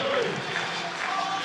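A full-capacity sold-out baseball crowd in Buffalo, New York, a steady dense roar of many voices filling the stadium, close and continuous with no single voice standing out.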